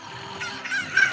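A short chicken squawk from The Legend of Zelda: Ocarina of Time, two quick rising clucks in the game's clean synthetic style, fairly close and alone.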